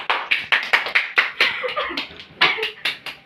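A classroom of students claps in a loose, uneven rhythm during a lesson on the Abbasid dynasty, with sharp individual hand claps close by and a few soft chuckles mixed in.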